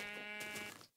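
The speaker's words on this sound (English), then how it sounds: "I just found a pink sheep." A single Minecraft sheep gives one nasal, buzzy bleat, close and fairly faint, that fades out at the end with no talking.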